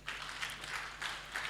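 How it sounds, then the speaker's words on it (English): Applause from an audience at a formal Ugandan statistics event honouring the Chief Statistician, a brief burst of clapping heard at moderate distance with a few swells over under two seconds. "a very big hand clap to the Chief Statistician of Uganda"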